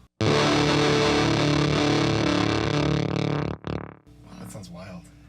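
Electric guitar played through an amp with a noise gate, loud and heavily distorted with sustained chords that cut off abruptly into near silence, followed by a voice talking.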